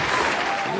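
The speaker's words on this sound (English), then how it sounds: "Let me hit the round of applause for my guy real quick." A short applause sound effect, a brief burst of clapping played loudly on a podcast.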